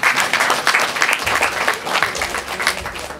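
At a summer camp welcome, an audience claps steadily, a dense patter of many hands that runs loud and unbroken for a few seconds.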